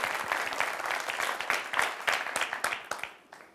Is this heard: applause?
yes